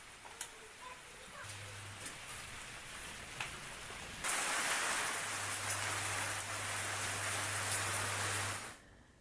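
Unseasonal rain falling in Bhusawal, a soft broadband hiss that swells into a denser, louder downpour partway through before cutting off.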